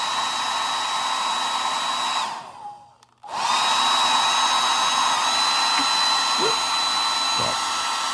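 A hair dryer blows steadily on a coat of finish over a carved wooden goldfinch, a loud constant whine that cuts off briefly and then starts again at full strength with faint knocks.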